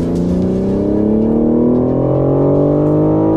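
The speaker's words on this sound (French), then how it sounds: "Et là, on entend les rapports directs." A BMW M4 Competition G82 engine drones loudly and steadily up close, its pitch climbing smoothly in a continuous acceleration through direct gear shifts.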